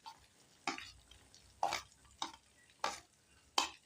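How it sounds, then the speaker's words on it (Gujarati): Spring onion whites sauté in a pan with a cumin and asafoetida tempering for Gujarati ringan nu bharthu, with five sharp, evenly spaced stirring scrapes over a faint sizzle. "ડુંગળીને આપણે સારી રીતે સોતે કરી લેશું"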